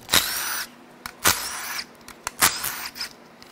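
A power tool spins out 10 millimeter bolts on a Cadillac Northstar L37 4.6L V8 engine in three short, close whirring bursts with brief gaps between them.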